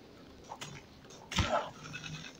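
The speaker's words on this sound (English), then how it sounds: "What's wrong with this goat?" A goat in the climbing game Hang Line: Climber gives a short, nasal bleat midway through, louder than the faint background game sounds before and after it.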